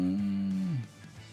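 A voice run through a pitch-shifting effect to imitate someone who has inhaled an inert gas: a sustained, buzzy, strongly harmonic tone that slides sharply downward near the end and then drops away.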